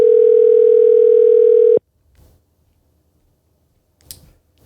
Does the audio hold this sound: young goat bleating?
no